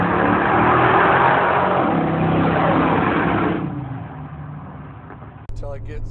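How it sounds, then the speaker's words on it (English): Minivan passing on a neighborhood street, a loud engine and tire roar that fades as it moves away over several seconds, ending with a brief clunk. "I got a car passing me, a minivan"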